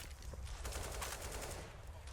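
Gunfire punching through walls in a Counter-Strike match on de_cobblestone during a pistol round, heard as a dense, sustained burst of shots mixed with game noise throughout.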